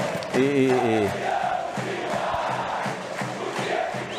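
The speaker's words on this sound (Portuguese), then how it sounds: "Olha lá, a torcida mostrando apoio pro Dorival." São Paulo football fans in a stadium cheer and chant in support of coach Dorival before a derby against Palmeiras, with one loud sung shout standing out over a continuous crowd roar.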